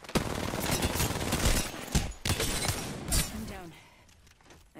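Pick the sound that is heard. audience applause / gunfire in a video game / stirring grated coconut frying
gunfire in a video game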